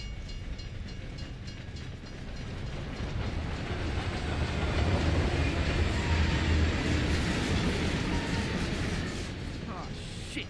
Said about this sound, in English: it's a bloody train coming the other way!